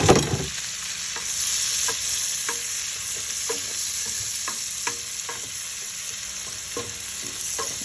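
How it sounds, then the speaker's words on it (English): Green and red peppers stir-fry in a pan for sweet and sour chicken, a steady close sizzle broken by repeated scraping clicks of a utensil against the pan, with no voices. "Then I add up the green and red pepper. Stir fry them for a little bit."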